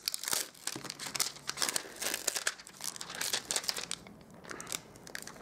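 A delicate thin metal die frame is peeled off its paper backing sheet at a card-making table, a close, continuous papery crinkling and crackling with small tearing bursts.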